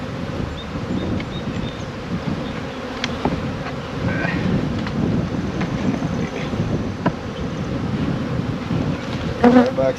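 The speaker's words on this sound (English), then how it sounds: "there's so many bees" Many honeybees swarm around beekeeping hive boxes in cold spring weather, a dense, constant buzzing that fills the air, with wind noise and a few soft knocks of equipment.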